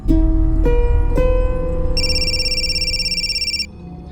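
An electronic phone ringtone plays a loud, steady tonal pattern for about two seconds after several sharp clicks and tones, over a constant low hum. No one speaks.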